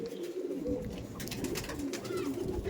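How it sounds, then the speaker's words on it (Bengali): Old Madras pigeons at a home loft cooing in low repeated throaty calls, several birds overlapping close by against a background of faint bright chatter, no talk. "এই দেখুন পায়রা বারো হচ্ছে"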